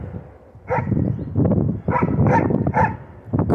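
Two big dogs near a small tributary of the Pilica river bark in an irregular string of deep, loud barks at close range, with low rumbling noise between them.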